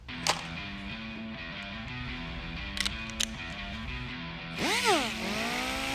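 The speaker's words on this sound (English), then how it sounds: "I'm using an angle grinder with 36 grit to get down to bare metal." An angle grinder with a 36-grit disc grinds paint down to bare metal on a truck body, a sustained whining tone with several sharp bursts and a rising, falling sweep near the end as pressure changes.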